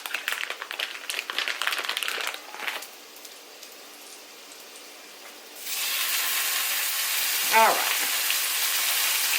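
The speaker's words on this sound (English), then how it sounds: "turn the skillet down to low and put them in there with the potatoes just to warm them up" Canadian bacon or ham warming in a skillet with potatoes on low heat: a steady, soft sizzle and crackle that swells in the second half, preceded by a brief spoken word and scattered kitchen clatter.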